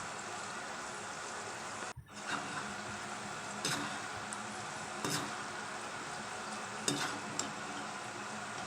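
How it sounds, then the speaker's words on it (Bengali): Cashews and raisins fry gently in oil for chicken biryani, a soft, low sizzle punctuated by a few light scraping stirs of a spoon in the pan. "100 গ্রাম কাজু আর 100 গ্রাম কিশমিশ আমি দিয়ে দেবো, দিয়ে ভালো করে ভেজে আমি তুলে নেবো।"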